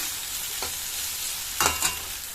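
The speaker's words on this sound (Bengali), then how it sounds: "এখানে ওলের ডাটাটা ভাজছি" Elephant foot yam stalks frying in a pan give a steady close sizzle, with a few louder scrapes and clatters of stirring near the end.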